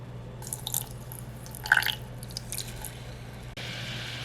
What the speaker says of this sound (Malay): Mula-mula sekali kita akan masukkan gula. Dan juga sedikit air.